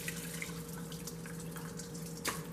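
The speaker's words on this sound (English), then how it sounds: "Use a strainer to get out all the water, chicken broth stuff." Water from cooked ramen noodles and chicken broth pours through a strainer into a sink in a steady, faint splashing rush with a low hum beneath, no talk.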